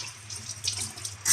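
Tap water runs steadily into a cooking pot for boiling yam, making a close, continuous splashing hiss that plays alone and briefly.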